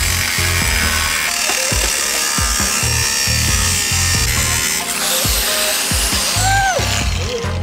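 A power tool with a special aluminium cutting disc slicing through aluminium angle, a loud, close, continuous grinding whine with rhythmic pulsing and a few rising squeals near the end.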